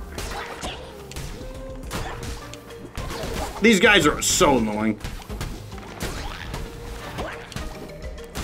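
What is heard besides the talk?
hammer attacks smashing enemies in video game Cult of the Lamb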